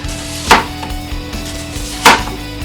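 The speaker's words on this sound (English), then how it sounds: "Cut these into rings, just like if you were going to make onion rings." A knife slicing an onion into rings on a cutting board, two distinct sharp chops about a second and a half apart over a low steady background hum.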